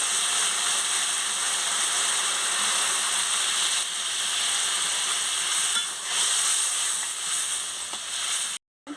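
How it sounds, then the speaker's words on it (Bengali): Water goes into a pan of frying spiced potato curry made with kudli potatoes, bringing a loud, steady, broad sizzle and bubbling hiss that holds throughout before cutting off abruptly at the end. "দেখুন, আমি পরিমাণ মতন জলটা দিয়ে দিচ্ছি।"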